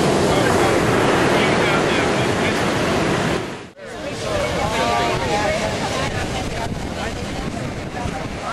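Ocean surf washes up on the shore at Carolina Beach, North Carolina, near a sea turtle nest, as a loud, continuous broadband roar that dips briefly and then surges again, with people's voices mixed in.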